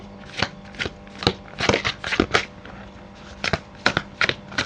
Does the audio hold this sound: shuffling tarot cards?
yes